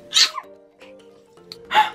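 Two sharp, close sneezes separated by a quiet pause, with a faint steady tone running underneath.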